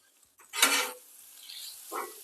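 Vegetables seasoned with Cavender seasoning sautéing on a Blackstone griddle, a brief loud burst of sizzling and scraping followed by a fainter, shorter sizzle near the end.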